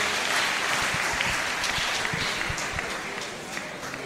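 Audience applause at a public dialogue on new Liberian dollar banknotes held at a market, a loud dense clapping that fills the space, with some crowd noise mixed in.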